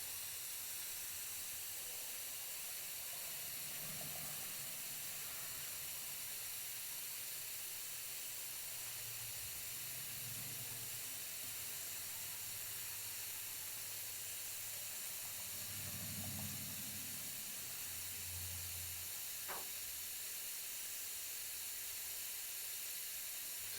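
Propane hisses steadily from a 1 lb canister being refilled outdoors, a constant faint airy stream with a few soft low thumps and one brief sharp click partway through.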